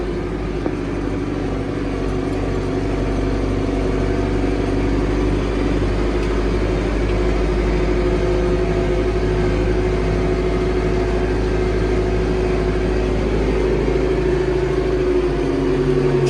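A Tümosan 8195 tractor's engine runs steadily while spraying pesticide on a wheat field, a constant mid-low drone heard close and alone with no talk, its pitch shifting slightly near the end.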